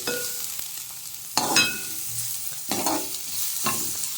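Bottle gourd peel chutney is stirred in a pan in a few scraping, clattering bursts, with a faint sizzle between them and no talking.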